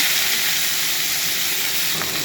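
Greens hit hot oil tempered with black cumin in a home kitchen, giving a steady, loud broadband sizzle and hiss that stays even throughout, with no talk.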